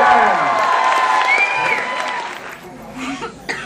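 Audience applause and cheering at a college event with a VJ host, a dense crowd wash that thins out toward the end, mixed with voices and some chuckles.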